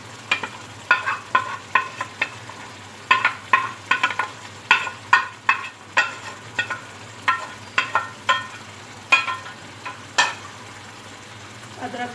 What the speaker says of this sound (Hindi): अब मैं इसमें जो हमने प्याज सॉफ्ट किए थे वो ऑयल समेत इसमें पलट दूंगी।